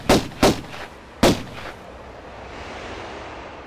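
Three sharp gunshots from the 1996 video game Tomb Raider 1, fired at bats in the Palace Midas level, crack out in quick succession with a short gap before the third, then fade into a low windy ambient hiss.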